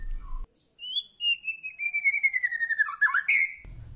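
A caged white-rumped shama (murai batu) sings alone at close range: a long, bright, descending whistled phrase that breaks into rapid chattering notes, followed by a short burst of higher twittering.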